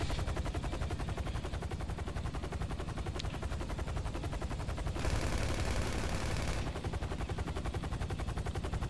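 Rapid, continuous gunfire from GTA V fills the whole stretch, dense automatic bursts with a brief brighter noisy blast partway through, loud and close with no talk over it.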